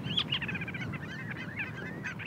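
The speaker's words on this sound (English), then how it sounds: "We love the sound of the birds." Geese call repeatedly in a steady stream of overlapping honks from a tundra setting in east wind, with a low rumbling background underneath and no voices.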